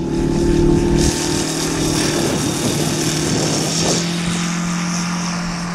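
An Aero A-102 model aircraft engine drives its propeller at a steady, loud, high-pitched buzz, close by and continuous throughout.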